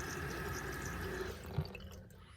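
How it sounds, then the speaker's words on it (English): An RV kitchen sink faucet runs at full blast, a strong steady rush of water that fades out near the end, with a brief knock as it stops. "It's the kitchen sink."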